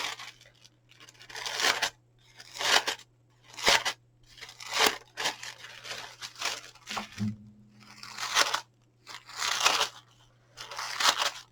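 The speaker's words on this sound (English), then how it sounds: "these scissors cut out 1, 2, 3, 4 sections at a time" Scissors slicing through several stacked sections of paper or card at once while making an ice cream gift box, giving repeated crisp crunching snips in a steady rhythm, close and alone with no talk.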